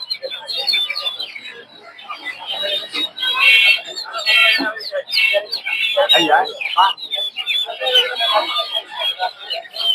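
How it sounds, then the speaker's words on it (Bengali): Guinea fowl chicks and chickens at a bustling poultry market chirp and cluck continuously in a dense, close chorus, with high peeping calls layered over one another and someone talking among them. "এদিকে আছে তিতির মুরগির বাচ্চা"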